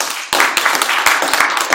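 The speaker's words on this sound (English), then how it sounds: "Let's go ahead and give a big clap." A close audience claps together in a short burst, the claps quick and sharp and loud throughout.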